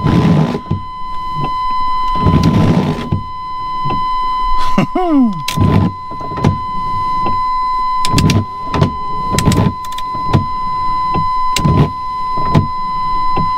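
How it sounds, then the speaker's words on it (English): Windshield wipers on an older Chevy truck sweep back and forth nonstop, a series of repeated mechanical swishes and motor whirs with one rising-falling whine and a steady electronic tone underneath. "the wipers just go and go and go and go and go and go and go and don't stop"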